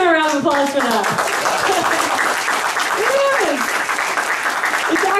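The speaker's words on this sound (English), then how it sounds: "give him a round of applause for that" An audience at a network marketing event in Waikiki, Hawaii, claps loudly and continuously throughout, with a voice speaking over the applause early on and briefly again midway.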